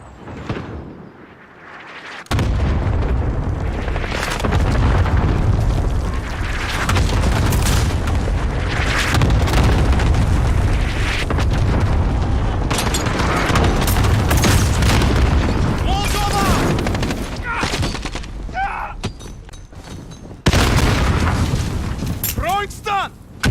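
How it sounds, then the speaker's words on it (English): Cluster strike explosions in a combat video game: heavy, loud booms and rumbling blasts rolling in close succession, with crackling debris and gunfire mixed in, broken by brief pauses, with scattered voices among them. "Friendly cluster strike inbound."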